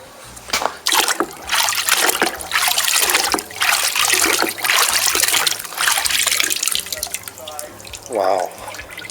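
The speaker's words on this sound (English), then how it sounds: "Let it drip a bit." Acid drips and trickles off a rusty steel caliper lifted out of an acid bath, a close, splashy patter of drops and running liquid with a brief voice near the end.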